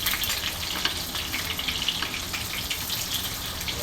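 Three pieces of eggplant frying in hot oil, a dense, continuous crackling hiss close up and fairly loud, with no talking over it.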